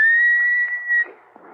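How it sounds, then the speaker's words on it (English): A man whistles a phrase of a song: a clear sustained tone held for about a second, then a brief murmur of faint room noise as it ends. "Why do you keep whistling that song?"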